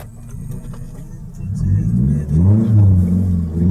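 A sports car engine rumbles low and deep, then swells as it revs and accelerates, the growl rising and peaking near the end, close and loud under people talking.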